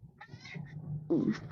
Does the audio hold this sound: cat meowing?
yes